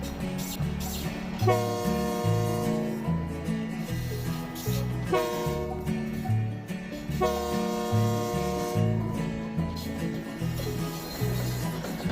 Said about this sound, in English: the train got moving back west towards the shop